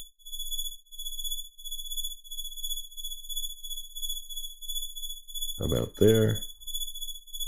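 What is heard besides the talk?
synthesized cricket chirps made in VCV Rack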